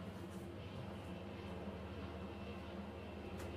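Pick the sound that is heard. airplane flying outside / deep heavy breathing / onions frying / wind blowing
airplane flying outside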